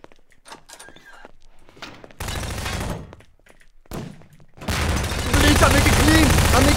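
Gunfire in Garry's Mod Prop Hunt arrives as loud, dense bursts of broadband noise that swell and drop, with a raised voice talking over part of the barrage.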